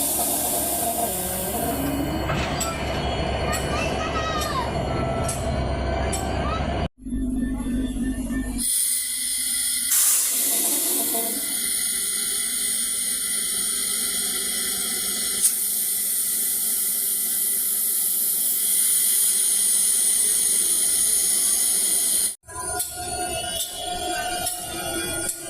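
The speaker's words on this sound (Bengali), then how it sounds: "আপনারা দেখছেন কিভাবে ইঞ্জিনটি ট্রেনের বগির সাথে সংযোগ" A locomotive couples to the carriages of the Modhumati Express after a loco reversal, with loud sustained hissing, rumbling and squealing metal, broken by a couple of abrupt cutoffs and shifts.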